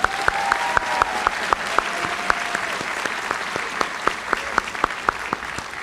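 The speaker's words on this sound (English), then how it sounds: "Let's cheer for him." An audience at a school graduation ceremony applauds steadily for several seconds, a dense wash of clapping with a few louder sharp claps standing out, no voices on top.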